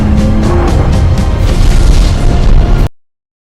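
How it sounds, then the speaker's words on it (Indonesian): A huge explosion in outer space from a film destroys Ted, a loud, sustained roaring blast with rumbling bass and pulsing bursts for nearly three seconds before cutting abruptly to silence. "ledakan dahsyat menghancurkan Ted hingga menjadi puing-puing di luar angkasa"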